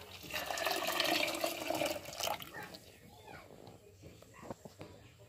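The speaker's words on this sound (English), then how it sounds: "So now I'm gonna be pouring this into the peas." Coconut milk is poured into a pot of peas in a home kitchen, a liquid gurgling splash that is strongest for the first two seconds, then fades into softer drips and small clinks.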